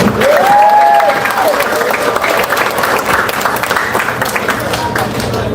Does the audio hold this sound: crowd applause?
yes